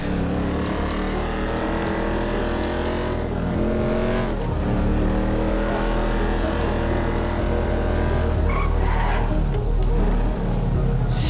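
A car in Grand Theft Auto Online drives hard with its engine steadily revving loud and close, a sustained motor drone with shifting pitch and a brief tire squeal near the end.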